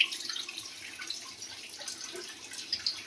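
Tap water runs steadily and gently over pieces of hilsa fish being lightly rinsed, a soft close splashing hiss with faint drips, no voices.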